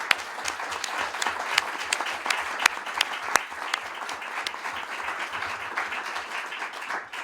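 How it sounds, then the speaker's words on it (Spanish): Sustained applause from a crowd welcoming a speaker at an informational talk on the war in Ukraine, dense clapping with a few sharper individual claps standing out, steady throughout. "os invito a recibir con un aplauso a Dmitry Sokolov."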